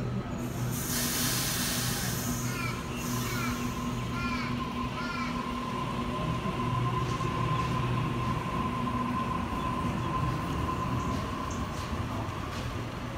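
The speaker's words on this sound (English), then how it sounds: "we have got a Waratah on platform number 4" A Sydney Trains Waratah electric train sits at platform 4, a steady rumbling hiss with a faint high whine holding at moderate level throughout, with quieter rail squeals early on.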